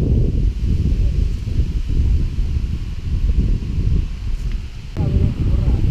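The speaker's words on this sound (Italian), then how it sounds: "Con questo vento" Strong wind buffets the microphone outdoors on a fishing outing, a continuous low roaring rush with gusty swells and rustling throughout, loud and close.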